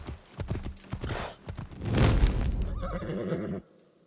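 A horse is called up in Assassin's Creed Shadows: hooves clip-clop in a quick rhythm, a loud neigh and whinny rises in the middle, then galloping hoofbeats carry on briefly before cutting off.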